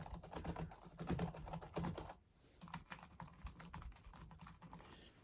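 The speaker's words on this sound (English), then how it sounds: "as I'm typing the keys, I hear this metal spring, or the key is going up and down" Rapid, clicky typing on a computer keyboard whose keys give a metallic spring ping, with a dense flurry of keystrokes, then sparser, softer taps, close up.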